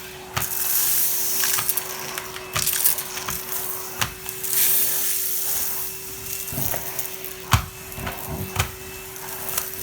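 A Henry cordless vacuum cleaner runs with a steady motor hum, while scattered cracks and crunches of debris being picked up break in at irregular intervals.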